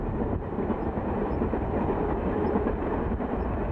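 A train travels along the Alpine railway line between Marseille and Grenoble, in the Buëch valley past Sisteron, with a steady close rumble and rolling wheel noise throughout, no voices.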